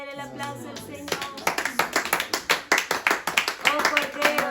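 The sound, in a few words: congregation applauding in church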